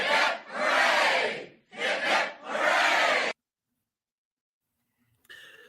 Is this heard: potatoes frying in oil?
no